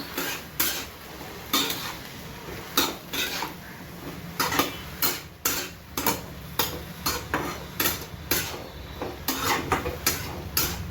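Dishes and steel utensils being put away in a home kitchen while fried vegetables cook, with repeated sharp clinks and clatters of metal and crockery coming at an irregular pace, close and fairly loud.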